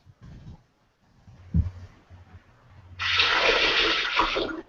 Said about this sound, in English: I hear like bathroom toilets flushing or something in the background